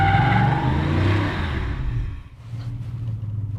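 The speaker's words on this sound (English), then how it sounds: "So we're just gonna scrub the rear tires." A Coyote V8-powered Ford F150 truck scrubs its rear tires at a drag strip, a loud rumbling engine with tire noise that swells, briefly drops, then settles into a steady lower drone.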